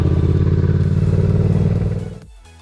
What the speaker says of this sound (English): You can hear the engine and then give it a little bit of gas.